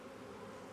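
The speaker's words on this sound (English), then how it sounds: "Are the bees flying around Daddy's head?" A honeybee swarm buzzes around a man's head, a faint, continuous droning hum that is brief and steady, with no voices.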